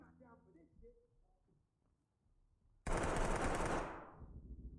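Sustained automatic gunfire erupts loudly midway through a tactical shooter match in Ready or Not, a dense burst following quieter moments with faint game sounds and low speech.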